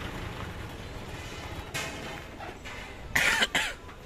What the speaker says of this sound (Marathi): काय रे खोकला आलाय का?